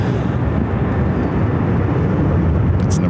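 A plane at Phoenix airport produces a loud, steady broadband jet roar that holds evenly throughout without pause.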